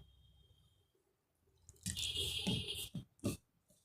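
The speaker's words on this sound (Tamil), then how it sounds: "கொஞ்சமாக தண்ணி சேர்த்துக்கலாங்க." A little water is poured into prawn 65 masala mix, giving a brief close splash and trickle, then a couple of short wet squelches as the paste is stirred, after a quiet start.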